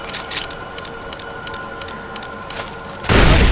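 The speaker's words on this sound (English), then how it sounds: "Explosion!" An explosion in the video game Far Cry 4 erupts as a sudden loud, broad blast near the end, after a stretch of light ticking and clicking game sounds.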